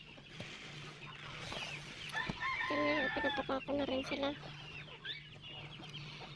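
Free-range chickens cluck loudly and repeatedly nearby while being fed in a rural yard, with someone speaking over the calls.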